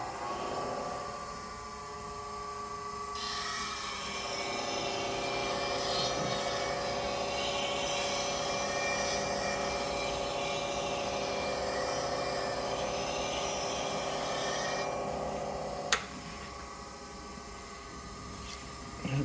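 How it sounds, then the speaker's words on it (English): A woodturning gouge being sharpened on a 600 grit CBN wheel, a steady grinding hiss over a bench grinder's hum that swells after a few seconds and fades near the end with a small clack. "600 grit CBN wheel. That's what I use for sharpening my gouges."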